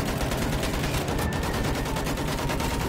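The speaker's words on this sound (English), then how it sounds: "Use that machine gun! Move them down!" Machine gun fire in the video game Battlefield 1 rattles continuously as a dense, loud, rapid stream of shots filling the whole stretch without pause.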